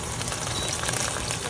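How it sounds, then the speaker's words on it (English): Anchovies frying hot in a pan for bagna cauda, a steady close sizzle and crackle that fills the whole moment with no voices. "So that's frying a little too hot, so I'm going to turn my heat down a little bit."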